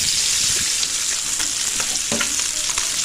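Fish frying in hot oil in a wok makes a loud, continuous sizzle scattered with crackles and small pops, close up with no talking.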